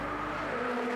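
Ferrari Challenge race car spinning at Sebring, heard as a steady, loud engine drone with a sustained tire-squeal tone, brief and unbroken.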